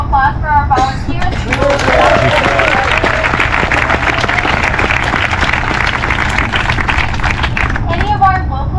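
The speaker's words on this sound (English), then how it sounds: "let's have a huge round of applause for our volunteers." Crowd at a Brooklyn Bridge parkrun 5K breaks into sustained, loud applause for the volunteers, dense clapping and cheering filling most of the stretch, with voices heard at the start and end.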